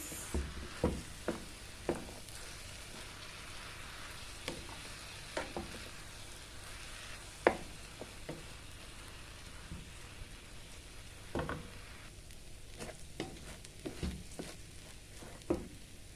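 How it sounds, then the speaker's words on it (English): Bulgur brown rice with mixed vegetables being stirred in a pan: scattered utensil scrapes and clicks over a soft, steady sizzle, close and fairly quiet. "We're going to stir this for a couple of minutes"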